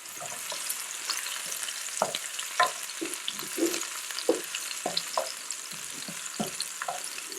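Food stir-fries with hot pepper in a pan, a steady sizzle broken by irregular scrapes and clacks of a utensil against the pan, close and clear with no voices.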